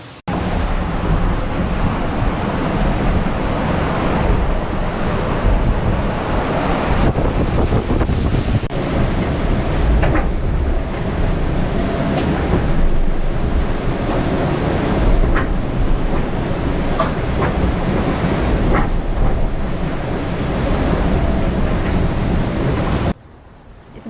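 Aboard a racing yacht in the South Atlantic during the Vendée Globe, steady wind roars across the microphone while waves rush and surge around the hull, loud and continuous, before cutting off at the end.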